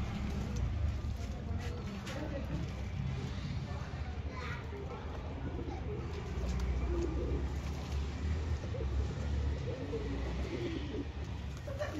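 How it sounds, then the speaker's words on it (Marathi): Racing pigeons bathing after a race, soft low cooing and fluttering amid a steady outdoor murmur, with faint voices in the background. "तुम्ही बघू शकता सगळे पाखरं कसे आंघोळ करताय."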